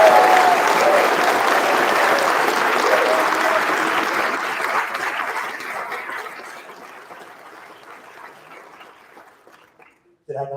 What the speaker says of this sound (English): Another final warm round of applause for today's graduates.